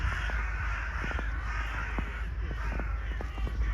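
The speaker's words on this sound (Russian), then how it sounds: "И вороны кричат" Crows cawing repeatedly in snowy Odessa, several short harsh calls scattered at varying distances over a steady low outdoor rumble.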